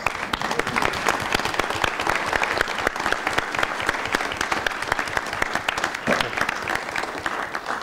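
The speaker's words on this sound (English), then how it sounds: "Let's give them a round of applause." A room of people at a city council meeting applauds steadily, with dense, sustained clapping that holds at an even level for several seconds and carries a faint murmur of voices.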